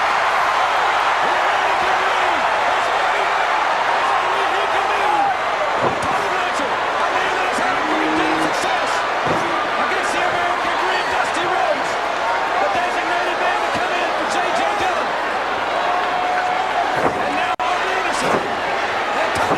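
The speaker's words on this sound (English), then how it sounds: "Listen to the crowd." Arena crowd at a 1987 WarGames professional wrestling event, a dense continuous roar of spectators with scattered shouts, steady and loud across the whole stretch with occasional thuds and bursts rising out of the din.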